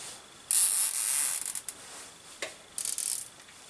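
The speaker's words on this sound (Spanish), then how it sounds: "vamos a colocar una brida para que el cable no pueda salirse" A plastic cable tie is pulled tight while fitting a heating timer, giving several short, close ratcheting zips in quick bursts with pauses between them.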